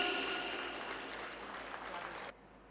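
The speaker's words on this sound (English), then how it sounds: "A big round of applause, please." Applause from an audience at a preschool annual day event, a broad, steady wash of clapping at moderate loudness that fades slightly and then cuts off abruptly near the end.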